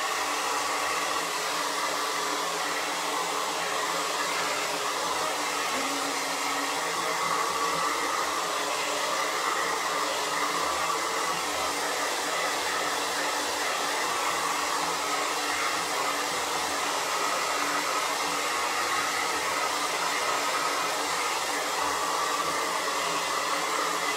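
A hair dryer blowing steadily on freshly painted nails, a constant close whooshing hum that runs unbroken and evenly loud from start to finish with no voices.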